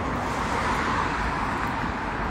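Steady broadband road rumble from a car being driven, with continuous traffic and engine noise filling the cabin at an even level throughout.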